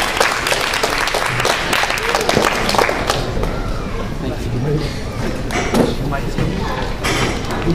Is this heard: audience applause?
yes